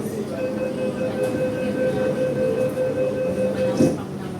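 Train pulling into a station platform on the way to Central, with a steady rumbling drone and tonal hum from the rail cars, close and continuous, with a brief squeal near the end.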